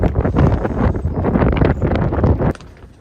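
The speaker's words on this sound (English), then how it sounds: "Hopefully you're able to hear me with all the wind that's going on right now" Strong outdoor wind buffets the microphone beside a hoop house on a giant pumpkin planting day, loud gusting rumbles and thumps in rapid bursts, then it drops away abruptly near the end; no speech.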